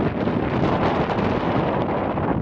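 Strong wind buffets the microphone on a golf course, a steady roaring rumble with gusty fluctuations and no voices.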